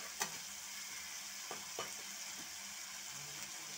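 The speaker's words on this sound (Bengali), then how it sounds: "আর মশলাটা আরও কষিয়ে নেব।" Spice masala for a fish curry sizzles steadily in hot oil while it is stirred, with a broad continuous hiss and a few soft scraping knocks of the spoon, close and fairly quiet, no talking.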